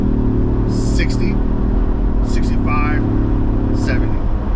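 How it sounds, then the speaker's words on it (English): Ford Bronco accelerating from a stop with a throaty exhaust, a steady deep engine rumble held loud and close under intermittent whispered talk from inside the vehicle. "It sounds very throaty, the exhaust."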